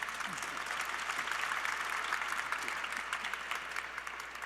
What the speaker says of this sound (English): Let's just have another quick round of applause for our panelists, please.